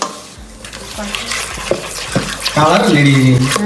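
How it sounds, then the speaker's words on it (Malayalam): Banana fry batter with sesame seeds being mixed with water in a bowl, producing wet stirring and scraping with clinks of utensil against the dish, close and fairly loud. "ഇനി കുറച്ച് നമുക്ക് വെള്ളം ഒഴിച്ച് നമുക്ക് മിക്സ് ചെയ്യാം"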